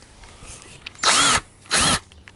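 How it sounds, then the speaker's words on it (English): Power drill boring a hole into an early-type transmission seal, two loud whirring bursts of about a third and a quarter second separated by a short pause. "we're going to drill a hole"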